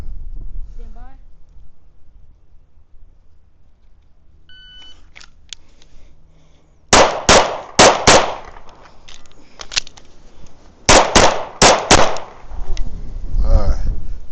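A Kimber 2K11 Pro Comp pistol fires at an IDPA match, two loud sharp bursts of rapid shots several seconds apart after a faint beep, with brief talk and movement around them.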